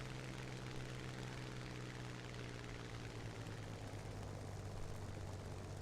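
A TBF torpedo bomber's engine in a D-Day combined battle video game drones as a steady, low propeller hum with a constant tonal buzz, even and unbroken throughout with no talk.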